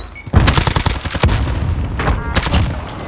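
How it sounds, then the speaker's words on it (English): A grenade blast in the video game Warzone: a loud sudden boom that breaks into a rapid burst of cracking impacts and gunfire-like bangs, followed by a second cluster of sharp reports, with no voices. "Grenade!"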